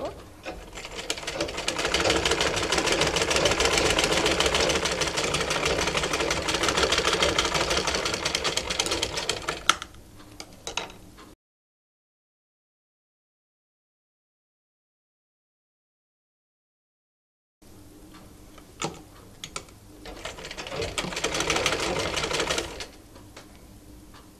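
An electric sewing machine stitches a raglan-sleeve seam on a baby frock, a fast steady whirring run that stops, then after a silent gap starts again in shorter bursts with clicks.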